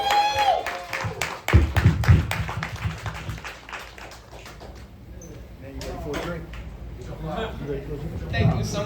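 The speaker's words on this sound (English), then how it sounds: "Give them a round of applause, please." An audience claps at a poetry open-mic finale, scattered applause with sharp taps rising and falling beneath a speaker's voice, fairly close and moderately loud.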